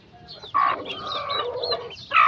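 Bantam gamefowl hens on a breeding farm clucking in bursts, with several birds calling close by and loud over a steady low background murmur.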